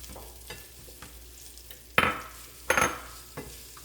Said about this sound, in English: So now to the sizzling hot pan, we're gonna add our onions.